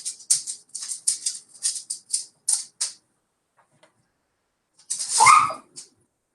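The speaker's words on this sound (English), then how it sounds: "Sorry, my dog's out of control." A dog barks in a rapid string of sharp, close yaps, then falls quiet before a final burst of whining and whimpering near the microphone.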